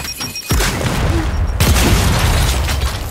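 Grenade blast in the video game Gears 5, a sudden loud broadband boom that hits hard and then rolls on as a dense, rumbling roar with crackling debris for several seconds, no talk over it.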